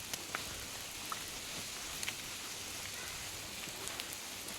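Rain at Chimmini dam in Kerala gives a soft, even patter with scattered sharper drips, fairly faint and steady throughout, with no voices.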